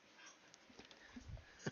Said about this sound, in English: You're a good dog, but go lay down.